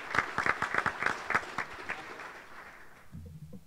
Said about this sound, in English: So I'd like to give both these gentlemen a round of applause.